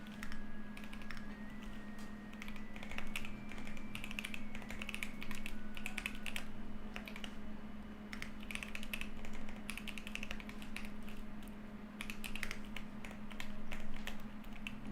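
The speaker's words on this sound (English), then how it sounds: "I'm really not used to typing on this fucking keyboard, man." Rapid, continuous clatter of keys on a computer keyboard, close and steady throughout, over a constant low electrical hum.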